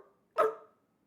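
A person's voice imitates a Minecraft dog bark with one short, close, loud bark-like yelp that fades quickly into silence.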